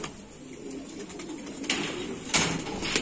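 Golden pigeons cooing among several breeds kept in pairs, a steady low murmur of coos with a few brief sharper sounds, nearly free of speech.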